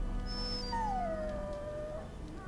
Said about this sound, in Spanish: That blasted hound is more trouble than he's worth.